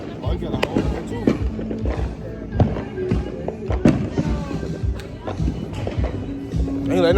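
Fireworks crackle and pop outdoors on the Fourth of July, a string of sharp bangs and snaps spread through the clip, heard under loud nearby voices and general commotion.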